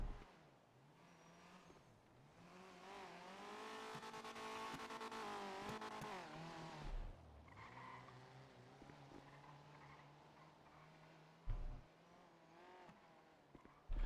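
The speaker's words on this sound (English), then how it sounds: "I hear a car." A car engine in the game GTA V (NoPixel roleplay) revs and roars past, its pitch climbing and falling for several seconds before settling into a quieter, steady hum with a couple of brief thumps.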